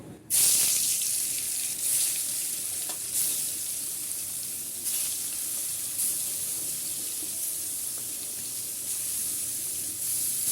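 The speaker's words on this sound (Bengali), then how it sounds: "তেল গরম হয়ে গেছে, মাছ দিয়ে দিব।" Eel fish frying in hot oil in a kadai makes a loud, continuous sizzle with a bright hiss. It starts abruptly and holds steady throughout, with small crackling surges along the way.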